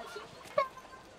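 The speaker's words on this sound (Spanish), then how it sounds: "¡Ay, gallinitas!" A chicken in the western roleplay game El Rancho RP gives a single sharp cluck amid faint background ambience, with no talking.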